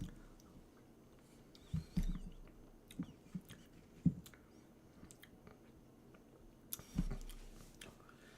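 Close, wet chewing and crunching of a hot pepper, with soft bites and mouth noises in irregular bursts, a few sharper crunches standing out against an otherwise quiet room.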